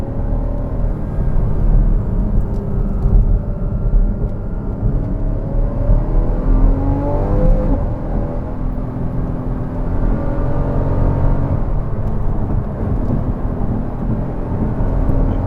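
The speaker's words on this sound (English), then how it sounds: "let's listen to this flat six absolutely raw" Porsche Cayman S 981 flat-six engine pulls steadily through the gears from inside the cabin, a loud continuous drone whose pitch rises and falls with each shift, with no talking.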